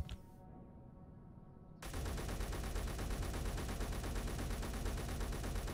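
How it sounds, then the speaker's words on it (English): A rapid-fire gun in the Space Engineers game, heard as a sudden, loud, dense and continuous stream of shots that runs steadily for about four seconds after a brief quieter stretch, with no talking. "this rapid fire gun rides up about the same whether you're zoomed in or out"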